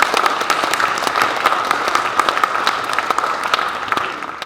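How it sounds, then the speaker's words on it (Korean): Steady applause from a sizable conference audience, dense rapid clapping that holds at an even level throughout. "우리 세 분 선배님들 위해서 큰 박수를 한번 보내주십시오."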